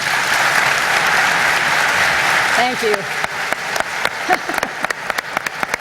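Applause from an audience at an American Israel Public Affairs Committee political speech, dense at first and then thinning into scattered claps as a voice speaks over it.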